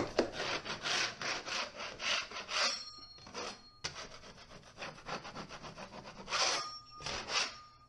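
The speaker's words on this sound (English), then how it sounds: "Just scraping any of the higher ridges down with my 6-inch knife." Repeated rhythmic scraping strokes of a 6-inch metal taping knife across dried drywall compound ridges, close and gritty, with brief pauses between bursts.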